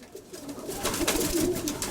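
Cooing and wing-shuffling of a pale, broad-feathered racing pigeon, bird number 84, held in someone's hands at close range, with soft murmuring calls rising in the second half.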